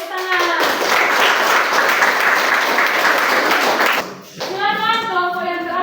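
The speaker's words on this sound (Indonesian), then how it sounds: "Tepuk tangan." Brisk applause from a classroom group, a dense burst of hand clapping lasting about four seconds before breaking off, followed by voices.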